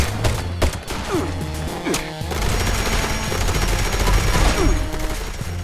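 Rapid automatic gunfire from a heavy weapon in the video game Fallout 76, loud and sustained bursts of shots with sharp cracks and a deep booming rumble running through.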